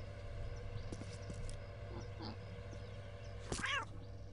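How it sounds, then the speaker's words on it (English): Cats meowing in the video game Postal 2, a few faint scattered meows over a low background hum, ending in one louder drawn-out meow. "Oh my god, look at all the kitties."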